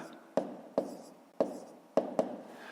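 Numbers are handwritten in a maths exercise book, heard as five distinct, close tapping strokes of a pen on paper at an uneven rhythm. The room is otherwise quiet.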